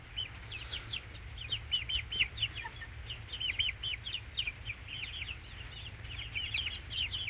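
A backyard chicken named Bonnie pecking at a hand while being offered worms and grubs, giving soft, repeated chirpy clucks in quick bursts close by over a low steady hum.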